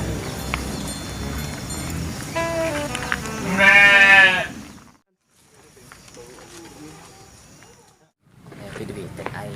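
Sheep bleating in a rural Sundanese village, several harmonic calls rising to a loud bleat, then a lull and fainter background sounds.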